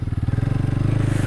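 A 2023 BS6 Bajaj Pulsar RS 200 motorcycle idles close by while being parked indoors, its engine thumping in a loud, fast, steady rhythm that dominates the scene.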